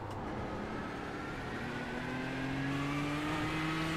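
A Ford GT race car engine in iRacing drones steadily and rises in pitch as it accelerates, a sustained tone with no talk over it.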